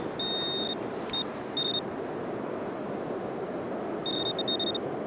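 A metal detecting pinpointer on a beach in Stegna, Poland, sounding over a coin: a few short, bright electronic beeps near the start, then a quick run of pulsed beeps later, all over steady wind and surf noise.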